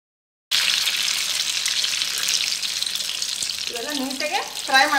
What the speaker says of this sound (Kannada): ಇವೆಲ್ಲ ನೀಟಾಗೆ ಫ್ರೈ ಮಾಡ್ಕೋಬೇಕ್ರಿ, ಸ್ವಲ್ಪ ಕೆಂಪಾಗುಮಟ